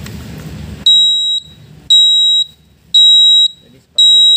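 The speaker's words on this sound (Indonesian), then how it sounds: "Nah, langsung alarm." A stand-alone gas detector triggered by lighter gas sounds its buzzer in four loud, piercing high-pitched pulses, each about half a second long and evenly spaced, after a brief moment of voice.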